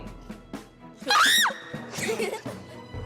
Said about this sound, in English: constant screaming is a no, no, no, no, no